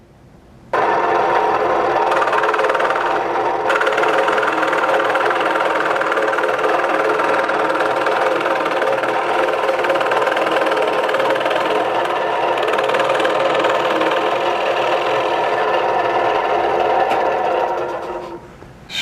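A scroll saw runs steadily, switching on just after the start and humming at an even, buzzing, fairly loud level before it winds down near the end, with no talking over it.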